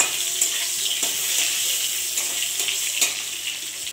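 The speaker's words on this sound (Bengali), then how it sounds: "আমি এখন লাল শাক ভাজা করব, সাথে পটলও ভাজা" Red spinach and pointed gourd slices fry in a pan with a steady close sizzle and occasional stirring scrapes and clinks, without any talking.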